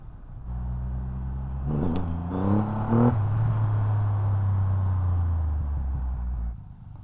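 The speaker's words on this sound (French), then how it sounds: "cette moto n'aime pas les remises de gaz brusques en ville quand tu es en bas régime" Triumph Rocket 3 R motorcycle engine idling with a deep low rumble, then a couple of quick throttle blips that rise and fall in pitch before settling back to a steady, loud idle.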